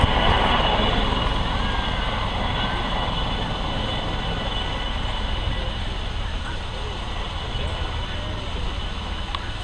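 An Army Air Corps Mark 7 Lynx helicopter manoeuvres at an outdoor air show, its rotor and turbine noise forming a steady, broad, moderately distant roar throughout.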